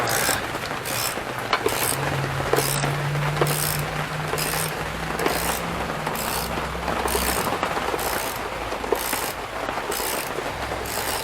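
A wrench works a subframe bolt on a Jeep Compass, giving a steady close grinding, rasping mechanical rub with rhythmic ratchet-like pulses that runs continuously throughout without talk.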